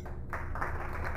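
Brief, steady clapping and applause sound effect from the video game Corpse Party: Book of Shadows, set in a radio station scene, heard as a short continuous patter.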